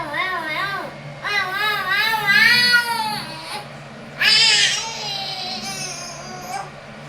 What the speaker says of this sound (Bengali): কার মিয়াও ওটা?